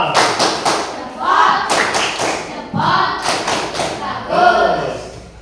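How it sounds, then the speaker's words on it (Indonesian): A classroom doing a group thumb clap, sharp clusters of claps in bursts mixed with children's voices chanting along, loud and close. "Berikan tepuk jempol kepada kelompok 2."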